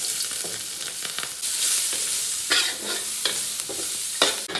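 Garlic sizzles steadily in hot oil left from rendering cured pork, a dense bright crackle with repeated scraping strokes of a spatula stirring it in the wok, close and continuous with no voices.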